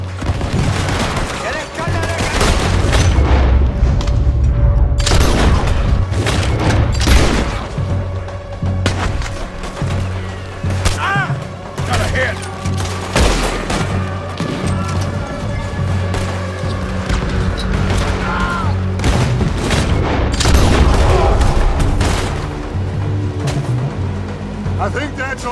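Cannon fire and rifle shots ring out in a beach battle in Red Dead Redemption 2: dense, continuous volleys of sharp cracks and heavy booms fill the whole stretch, loud and close, with voices faintly mixed in.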